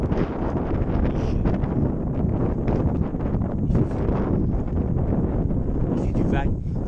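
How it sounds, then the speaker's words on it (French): Strong wind buffets the microphone in a constant rumbling roar during a 100-mile trail race in southern France, with gusty rustling throughout and occasional faint voices beneath it. "Il fait du vent."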